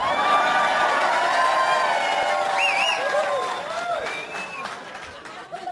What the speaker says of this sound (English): That's the biggest cheer you've given me all night!